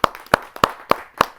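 An audience at a Hindi poetry gathering greets a poet from Meerut with a few sharp, evenly spaced claps, close and distinct, in a brief burst.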